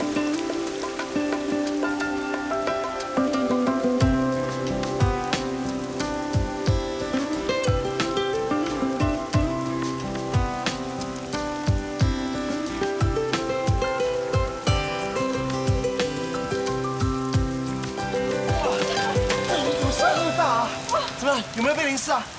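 Sudden rain falls in a city street scene, a steady patter of drops under a loud swelling music score, with no clear speech heard.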